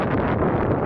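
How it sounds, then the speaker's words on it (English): Steady, loud wind buffeting the microphone, a constant broadband roar with no pauses. "Probably extremely windy here."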